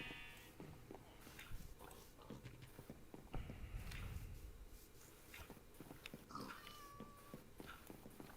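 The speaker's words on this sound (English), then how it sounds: "Kitty cats." Cats meow in a video game, short mewing calls rising faintly above a busy bed of game noise with footstep-like clopping, the clearest call coming near the end.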